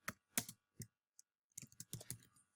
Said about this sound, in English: just type the code